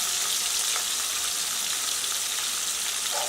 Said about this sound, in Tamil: இது எல்லாத்தையும் நல்லா ஒன்றோடு ஒன்று இந்த மஞ்சள்லாம் ஒட்டுற மாதிரி காயில் நல்லா கிளறி விடுங்க